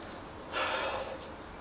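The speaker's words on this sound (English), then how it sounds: "I seem to be breathing quite heavily today." A single heavy, breathy gasp or exhale during a full-body HIIT workout. It comes in one short burst midway through, fairly close, over a quiet background with no talking.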